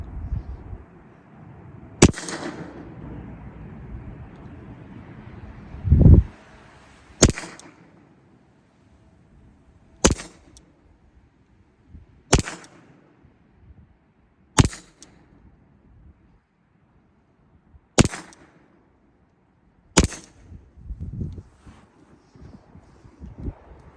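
Seven sharp, loud gunshots from a firearm switched from safe to fire, spaced unevenly a few seconds apart with quiet handling noise between and no talking.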